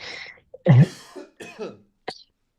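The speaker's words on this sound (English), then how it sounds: "now I have to cough" A person coughs a few times in short bursts, close and fairly loud, with brief pauses between, ending in a throat-clearing sound.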